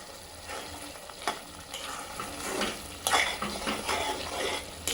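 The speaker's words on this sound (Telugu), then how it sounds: "ఇది ఇట్లా కలుపుతూనే ఉండాలి మంచిగా, లేకపోతే అడుగంటినట్టు కలుపుతుంది." Mushroom curry being stirred as it fries in a pan, a steady close sizzle with scraping spoon strokes and a few sharper clinks against the pan, continuous and fairly quiet throughout.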